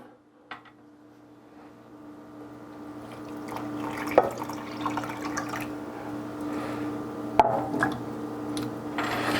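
Warm water at about 125 degrees poured onto bloomed gelatin for protein jello, a soft steady trickle and splash with a few sharp drips and knocks, close by and alone.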